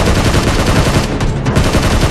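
Loud, dense, continuous gunfire from the PUBG Mobile video game, sounding like sustained automatic fire that fills the whole stretch without a break.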